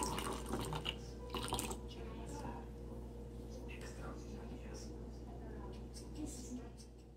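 Half a cup of water poured into peach syrup juice in a home kitchen, a steady watery splash and trickle lasting several seconds beneath faint background noise.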